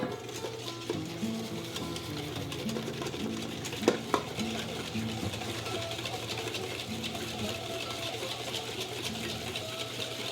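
A whisk stirs sabayon sauce for poached pears in a bowl, a steady, busy scraping and swishing that runs throughout, close by, with a couple of brief clinks partway through.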